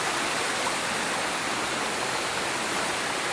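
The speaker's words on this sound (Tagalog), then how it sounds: "May ilog." A river in the rural countryside rushes steadily along a shortcut path, a dense, even roar of flowing water that stays loud and unbroken throughout with no voices.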